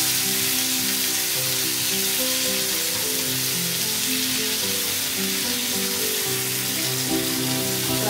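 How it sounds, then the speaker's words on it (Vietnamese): Tomatoes stir-fry in a hot pan in a Vietnamese home kitchen, giving a loud, steady, close sizzle throughout with no pauses. "Mình bỏ vô mình xào."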